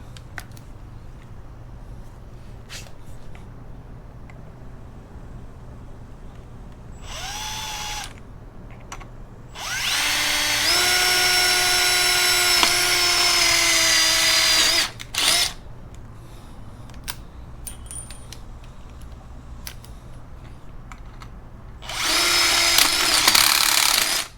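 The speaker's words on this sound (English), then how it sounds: "make our pilot hole real quick" Power drill boring a pilot hole while modding a Wilderness HD kayak cart for a Solo Skiff: several whining bursts of varying length, one long steady run in the middle and a final short burst, with quiet handling noises between.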